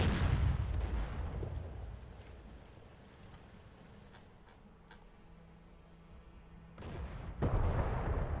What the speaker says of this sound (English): Oh, that was another direct hit to the German tank